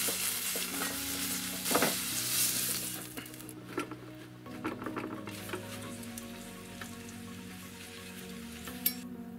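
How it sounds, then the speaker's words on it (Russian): Garlic fries in a pan for a salsa, sizzling up close while a utensil stirs it with scraping clatters, loudest at the start and then settling into a quieter steady fry with occasional taps. "Добавили чеснока прямо за минуту до готовности. Сейчас немножко обжарим, чтобы запах дал хороший."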